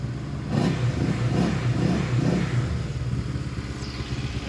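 A Honda PCX 160 Standard scooter fitted with a PG Racing B2 cam revs indoors, its mid-pitched engine rising and falling in three quick throttle blips over a steady idle rumble, loud and close.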